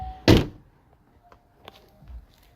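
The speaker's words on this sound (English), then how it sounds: "I'm gonna close the door so you guys don't hear it." A door pushed shut indoors, one loud close thunk followed by a few faint knocks and settling sounds in a quiet room.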